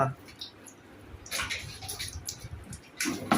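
Water is poured over a cat during its bath, splashing in bursts that come and go, with a person talking throughout.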